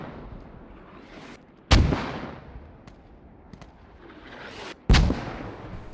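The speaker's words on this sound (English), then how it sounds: "The US side is not very accurate with the mortar." Two heavy booming mortar shots in the tactical shooter game Squad, each a sharp loud blast with a fading rumbling tail, spaced about three seconds apart over faint background noise.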